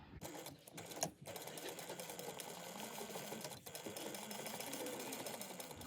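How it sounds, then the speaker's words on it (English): A sewing machine stitching a quarter-inch seam on a bag-making project, running as a steady rapid whirring hum for several seconds after a short pause and restart near the start, close and moderately quiet, with no talking. "you're just going to sew this at a 1/4 inch seam allowance"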